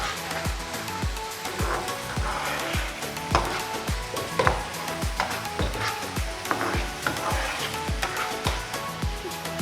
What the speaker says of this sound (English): Give this another big stir.